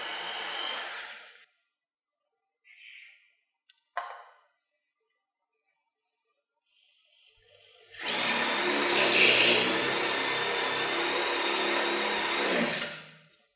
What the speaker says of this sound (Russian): Нам где-то надо приблизительно засверлиться где-то около